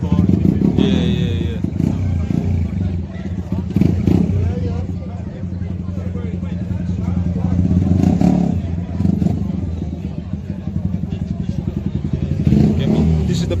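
A motorcycle engine rumbles and revs at a London-to-Southend group rideout, loud and steady with surges of throttle, while people chat nearby over the engine noise.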